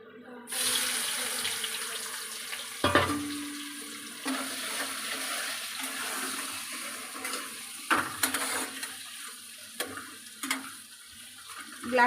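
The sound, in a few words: chopped onion frying in a pan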